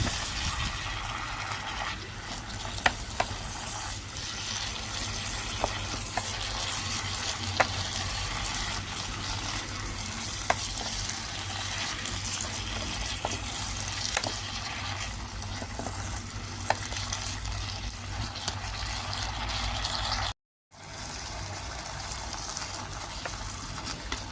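Vegetables stir-fried with Indian masala spices in a pan, a constant dense sizzle with occasional scraping clicks of the utensil, close and fairly loud, briefly dropping out near the end.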